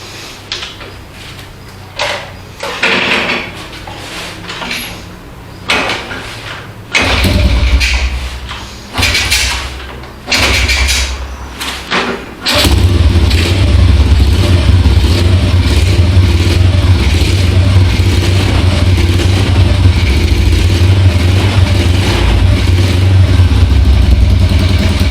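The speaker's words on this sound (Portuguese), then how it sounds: "Tá aqui a moto funcionando." A Dafra Zig 50 motorcycle fitted with a Honda Biz engine, cold and just started, sputters through a few attempts before catching, then settles into a steady, loud, low idle.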